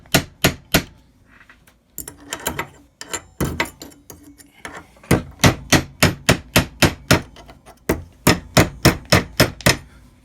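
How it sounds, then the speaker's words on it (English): A hammer peens the steel finger blades of a Freddy Krueger glove replica, striking in quick rhythmic bursts of sharp metallic taps, close and loud, with brief pauses between runs. "I like to kind of peen these over so they get that nice"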